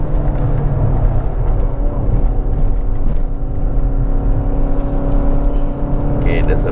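A Mazda 6 Touring drives up the winding Genting road, heard from inside the cabin as a steady, loud low engine and tyre drone that stays constant throughout.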